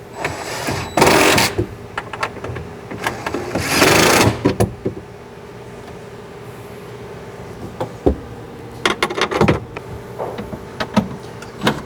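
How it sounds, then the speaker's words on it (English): Impact wrench seating bolts on a Jeep Wrangler JKU Rubicon gear module, firing in two loud sustained bursts followed by a string of short quick rattling hits, close by, with quiet gaps between and no talk. "we can use the impact to seat the module firmly in place"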